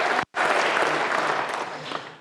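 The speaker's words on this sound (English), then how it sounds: "Oh, applause line." Audience applause at a university State of the University address, a dense sustained clapping that begins abruptly after a brief gap and tapers slightly toward the end.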